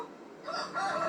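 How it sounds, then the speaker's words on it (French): A rooster crows once in a farm video game, a rising call that swells and holds through the end, clear and close with no talking over it. "j'ai un coq"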